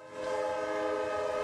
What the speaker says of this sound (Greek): ο συρριστικός ήχος του τρένου ακούγεται από όχι και τόσο μακριά